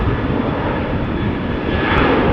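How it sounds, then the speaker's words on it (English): Steady, loud jet roar from a KLM Boeing 737 airliner at an airport, a dense continuous engine rumble without any talking. "KLM 737"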